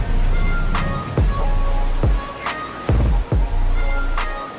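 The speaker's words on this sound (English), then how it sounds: "Look at the way that rain is moving across this soybean field. You see the waves of the wind and rain beating down on it." Rain with gusting wind sweeping over a soybean field in a farming video game, a steady loud hiss broken by several sharp thudding impacts.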